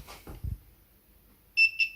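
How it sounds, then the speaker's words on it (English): A multimeter on its continuity setting lets out a steady, fairly loud electronic tone as its two test leads are touched together, pulsing in short bursts after a few soft handling knocks. "touch these leads together till we get that beep"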